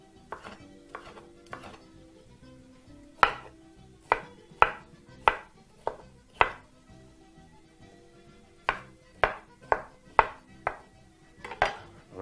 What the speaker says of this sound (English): now we're going to proceed to chop those into 1-inch cubes